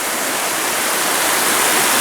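Close, loud and continuous rushing of the Shaki waterfall in Armenia, a dense wash of falling water with no voices heard over it.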